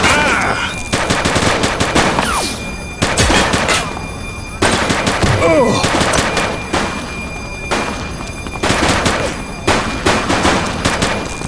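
Bursts of rapid gunfire in the police game The Precinct come in several loud volleys separated by short pauses, with a few sharp single shots and faint shouted voices in between.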